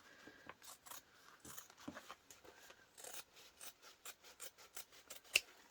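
Scissors trim fabric for a sewn portable console case, a series of quiet close snips in a steady rhythm, each a short crisp cut, with one sharper snip near the end.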